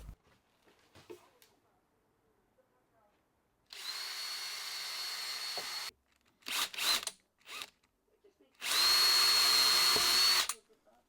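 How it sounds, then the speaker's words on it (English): Two bursts of a power drill whining at high speed drilling pilot holes through a board, each about two seconds, separated by a few short clattering knocks, with quiet gaps before and between. "Then I can drill a couple of pilot holes through it."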